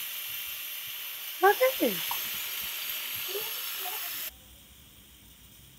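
An Instant Pot pressure cooker venting steam in a loud, steady hiss that fills the scene for several seconds and then cuts off abruptly, with a brief spoken word over it.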